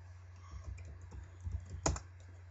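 Someone types a password on a computer keyboard, a run of soft, quiet keystrokes ending in one sharper, louder key press, over a steady low hum with no talking.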